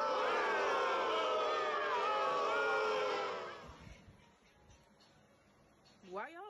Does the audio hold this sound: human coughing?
no